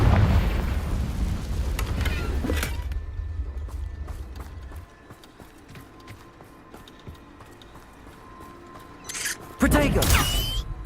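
Confringo spell blasts in Hogwarts Legacy go off as two heavy booming explosions, one at the start and another near the end, with clicks and rattling mechanisms in between and a voice speaking over the combat.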